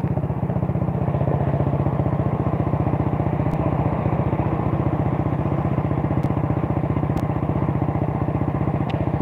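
An old Honda Grand motorcycle engine idles steadily up close, a fast even putter with light mechanical clatter running throughout, no voices.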